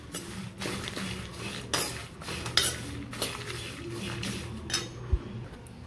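Dal and curry leaves dry roasting in a pan while being stirred, with repeated scraping and clinking of a spoon against the metal, a steady near rhythm of stirs and a sharper clink near the end, no voices.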